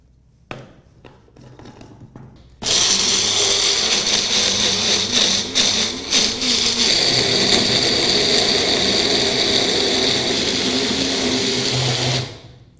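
A mixer grinder whirs loudly and steadily as it grinds coconut chutney with water, starting abruptly after a few light clicks and running as a continuous buzzing roar for about ten seconds before cutting off.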